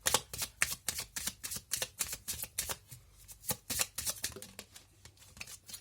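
Oracle cards being shuffled by hand, a rapid run of crisp riffling flicks and soft slaps repeating through the whole stretch, close and clear with no talking.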